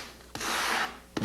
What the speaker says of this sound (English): Take your long sanding block and you want to carefully smooth this up